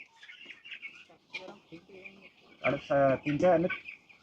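Broiler chickens of about 600 grams on a poultry farm cluck and squawk in short bursts, louder toward the end, mixed with a person talking nearby.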